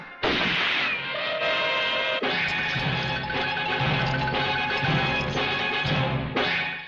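A loud, dense burst of sharp impacts and crashing noise, sustained over several seconds, like a dramatic gunfire sound effect with no talking.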